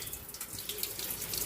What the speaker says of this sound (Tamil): தண்ணியெல்லாம் வடிஞ்சு வர அளவுக்கு நம்ம ஃபில்டர் பண்ணி வச்சுக்கலாம்